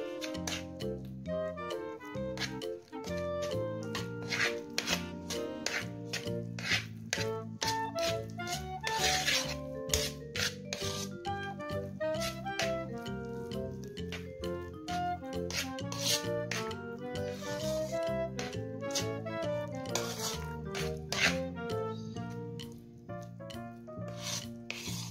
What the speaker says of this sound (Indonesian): Setelah itu kita aduk sampai rata, boleh pakai mixer atau boleh pakai sendok seperti ini aja ya.